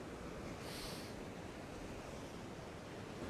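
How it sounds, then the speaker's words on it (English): Waves wash onto the shore at a fishing spot in rough conditions, a steady broadband rush of surf with a brief swell of hissing spray, no voices. "Some decent waves coming over."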